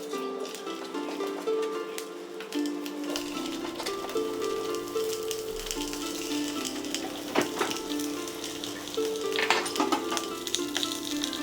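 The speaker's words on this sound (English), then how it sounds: "take the high heat needed to sear these Italian sausages" Italian sausages, half spicy and half mild, sear in hot canola oil in a cast iron pan, giving a steady crackling sizzle with scattered pops and spatters that carries on throughout.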